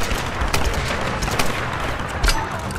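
Explosions and gunfire in the Tomb Raider game finale, with repeated sharp blasts and bursts rising over a constant dense roar of combat noise, loud and close throughout.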